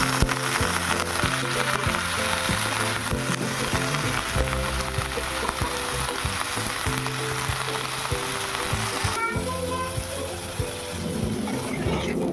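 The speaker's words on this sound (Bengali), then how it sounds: "মেথি শাকটা ভাজা হয়ে গেছে।" Fenugreek leaves fry with eggplant in a pan, producing a steady, close crackling sizzle that continues evenly, with music playing in the background.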